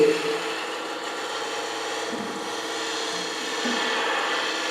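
Spindle gouge riding the bevel along a spinning wood workpiece on a lathe, making a steady, close rasping cut with a faint motor hum beneath, continuous without breaks and no talk.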